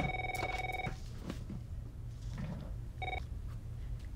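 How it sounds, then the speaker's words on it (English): An office desk telephone rings, a sharp electronic trill in two bursts with a pause between them, set against steady background hum. "Can you not hear the phone ringing?"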